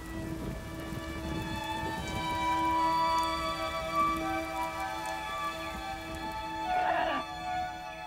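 Rain at the start of the rainy season near Kapan falls as a steady, moderate hiss, with faint tonal background sounds and a possible distant rooster.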